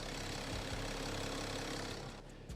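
A BMW 430d's diesel engine idles steadily up close, a dense low rumble with a rough, clattering texture, fading slightly at the very end.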